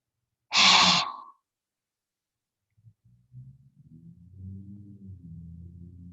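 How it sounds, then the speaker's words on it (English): A single deep breath is drawn in sharply and close, then after a pause comes a soft, low, drawn-out exhale, faint and unaccompanied by speech. "Begin that inhale again."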